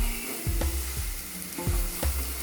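Cabbage palya frying in a pan in an Uttar Karnataka-style home kitchen, stirred with a spatula: a steady sizzle broken by several clear scrapes and knocks against the pan, close up and with no voices.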